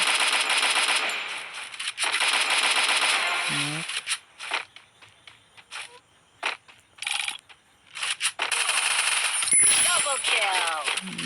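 Rapid automatic gunfire bursts from a shooter game using an M1887 shotgun and Woodpecker rifle, with loud dense volleys at the start and end and scattered single shots and mechanical clicks between, and a voice underneath.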